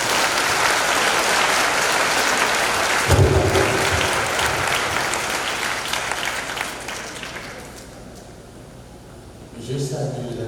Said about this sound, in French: applaudis Jimmy pour moi